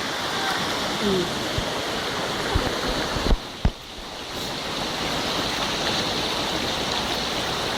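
Flash flood water rushes in a loud, continuous roar, dipping briefly in the middle, with a few faint knocks.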